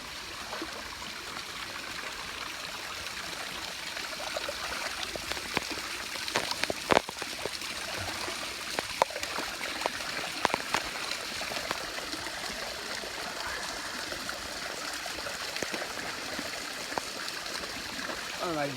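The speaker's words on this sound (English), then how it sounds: "super steep, like water, little mini waterfall right in here" A small mountain waterfall trickles steeply into a pond, a continuous close splashing and gurgling wash of water with occasional brighter splashes.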